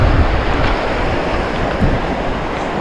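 Ocean waves and wind at Pass-a-Grille beach after Hurricane Milton, a loud broad rushing roar of surf with gusty wind buffeting the microphone, continuous and close, with no voices.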